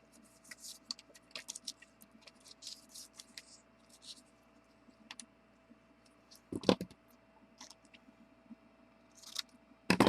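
Paper pieces being cut with scissors for a small treat box, a series of light crisp snips and clicks, close by and fairly quiet, with a sharper louder cut partway through.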